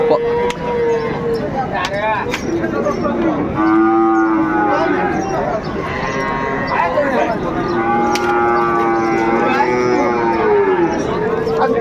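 Shahiwal bulls at a livestock market in Ambari, Dinajpur, give several drawn-out moos, close and loud amid crowd noise, with people talking in the background.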